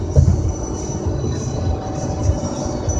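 Diesel locomotive train rumbling past at steady volume, a continuous low heavy roll with rail noise and a faint high whine, no talk heard.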